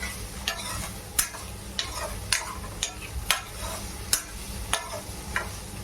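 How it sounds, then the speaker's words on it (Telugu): Paneer pieces are gently stirred with turmeric in a pan, making regular sharp spoon scrapes about every half second over a soft, continuous sizzle, close up with no talking. "మొత్తం మిక్స్ అయ్యేటట్టుగా పసుపు సో కలపండి, మెల్లిమెల్లి కలపండి"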